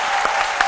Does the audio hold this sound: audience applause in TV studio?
yes